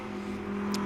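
An all-white McLaren GT4 race car in a Pirelli GT4 America SprintX race at Watkins Glen approaches with a steady, loud engine drone that builds slightly as it nears.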